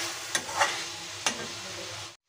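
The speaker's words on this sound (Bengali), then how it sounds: "আলু আর ডিমগুলোকে আমি মশলার সঙ্গে কষিয়ে নেব" Potatoes and boiled eggs sautéed with spice masala in a pan for egg curry, where a steady close sizzle is broken by several distinct spatula scrapes and knocks before it stops, without speech.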